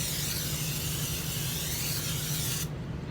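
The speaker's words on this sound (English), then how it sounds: "Spray it real good." Cooking spray hisses in one continuous, close burst as it coats the inside of a pan for Lithuanian kugelis, then cuts off sharply near the end.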